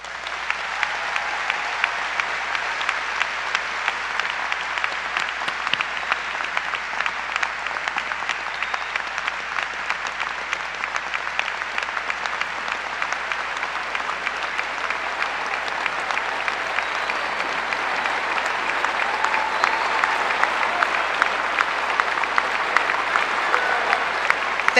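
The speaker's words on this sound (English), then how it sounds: "You may clap." A large audience claps steadily at a high school graduation ceremony, a sustained, even wash of applause that holds its level throughout and swells slightly toward the end.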